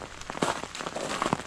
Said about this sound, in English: there's just regular rain coming down